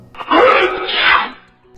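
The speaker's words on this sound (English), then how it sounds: "The bear, tickled by the mouse's whiskers, gave an enormous sneeze." A single loud, drawn-out sneeze, close up, rising then trailing off.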